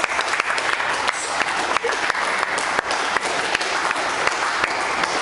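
Loud, dense applause from the audience at a bench press competition fills the hall, a continuous roar of many hands clapping with crisp individual claps punctuating it throughout.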